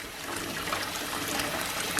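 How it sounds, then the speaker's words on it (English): Tap water streams steadily onto a coconut milk bath bomb, a close, continuous trickling and splashing with fizzing hiss, no voices. "You can also just hold it under the stream of water."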